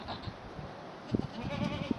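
An Arapawa goat, a rare breed, gives a few short bleats close by over a rustling farmyard background, the calls rising near the end and no one speaking.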